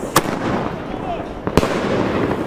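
New Year's Eve fireworks going off in a residential neighbourhood: two sharp, loud bangs roughly a second and a half apart over a crackling, noisy outdoor background.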